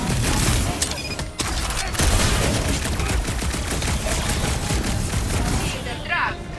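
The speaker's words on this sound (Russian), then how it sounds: "У вас там стрельба? Еще какая!" Rapid gunfire and blaster shots in the Guardians of the Galaxy video game, loud and continuous over a dense battle mix, with voices talking over the shooting.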